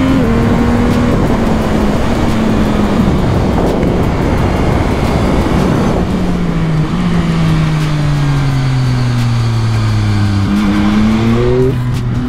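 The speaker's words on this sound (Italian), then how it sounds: "Come scoppietta anche con lo scarico originale." A Yamaha motorcycle on its stock exhaust revs loud and close, its engine pitch climbing and falling repeatedly with crackling pops, continuous and alone with no talk.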